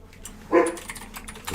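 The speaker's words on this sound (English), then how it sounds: "There's the dog saying good morning to you." A dog gives one short, fairly close bark in an otherwise quiet indoor space, with faint tapping in the background.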